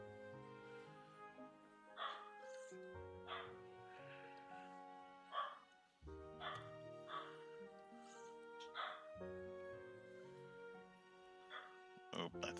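A small dog barks in short repeated yips and bow-wows at irregular intervals indoors, moderately close, over a steady background tone, with some whimpering between barks.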